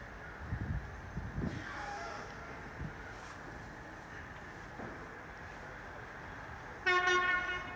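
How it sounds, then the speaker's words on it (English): Class 66 Freightliner freight train running through Market Harborough station Platform 1, a low rumbling pass with a few heavy thumps, ending in a loud multi-tone horn blast near the close. "we have got a Class 66 full Freightliner running on time this time compared to last Monday, going through Market Harbour Platform 1"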